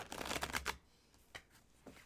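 A tarot card deck is handled and cut, a brisk papery riffle of cards up close, then a few soft isolated taps and slides as the pile settles.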